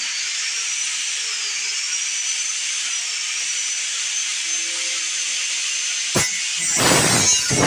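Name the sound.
grinder cleaning up a weld grind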